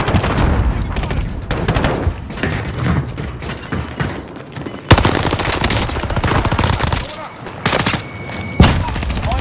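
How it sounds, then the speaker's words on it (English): Video game battle audio with dense, rapid automatic gunfire and a sudden sharp frag grenade blast near the middle, followed by more bursts of shots and another loud impact, with players talking over the action. "Tossing a frag."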